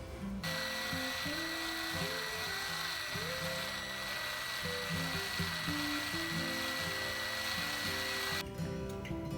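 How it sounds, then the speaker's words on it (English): A power drill whines continuously at close range, its motor pitch wavering as it bores through a stair frame inside a Promaster van, then stops abruptly near the end. "I'm going to drill the hole over here now."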